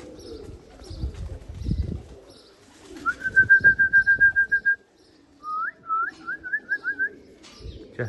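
Racing pigeons coming home to the loft after a 340 km race, with soft cooing and fluttering close by and a person's sharp, repeated whistles calling the birds in.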